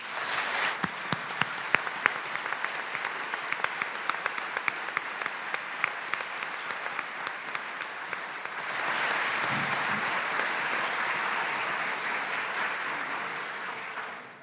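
Applause from a live audience at a panel discussion on surviving genocide: crisp individual claps at first, swelling into a thick, sustained ovation that fills the room for over ten seconds.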